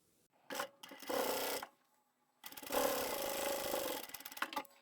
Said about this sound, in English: we'll take that to the machine and sew down both long edges